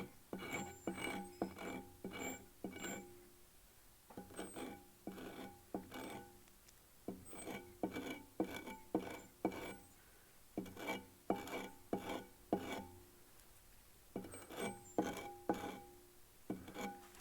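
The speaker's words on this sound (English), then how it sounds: "I'm just going to go and kind of sand it off real quick" A resin casting is sanded by hand in bursts of quick, rasping back-and-forth strokes, close and fairly soft, with brief pauses between passes.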